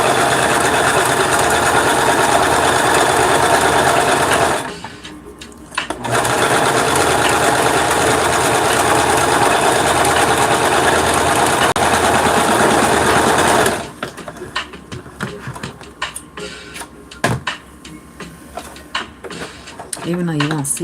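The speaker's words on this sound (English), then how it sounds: "I might want to sew it down so it won't fray." A sewing machine stitches fabric down to stop fraying, its fast steady whirring running loud and close for long stretches, pausing briefly once before stopping near the end amid handling clicks and rustles.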